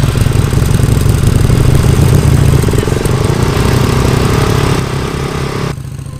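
Loud, close motorcycle engine noise, a rough steady rumble with a rattling, clattering texture that holds for several seconds and then drops slightly in level near the end, with no voices.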